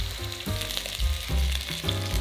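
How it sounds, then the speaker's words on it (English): Pork ribs and beef chuck sear over high heat in garlic-scented oil, a loud, steady close-up sizzle and crackle with nobody talking. "Sear them over high heat until beautifully browned."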